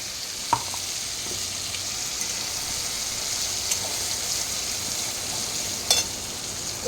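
Mustard, green chili and poppy seed paste sizzles steadily in hot oil, a loud close frying hiss with a few sharp clinks of a spoon stirring the pan.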